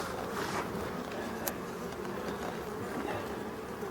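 Dense, steady buzzing of honeybees foraging around their hives at midday in mid-October, a close swarm drone that holds level throughout with no talking.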